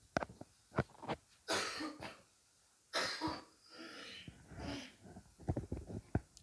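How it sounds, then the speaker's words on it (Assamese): A man with a lingering cough gives several harsh, close coughs and throat clearings in clustered bursts, with short pauses of breathing between them. "কাহটো মাৰি থাকিব লাগিব মাজে মাজে"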